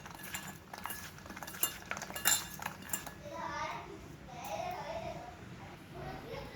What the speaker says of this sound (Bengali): এটাও আমি গুলিয়ে নেব আর এটা হলুদ লবণ দিয়ে সুন্দর করে ভাবে মেখে নেব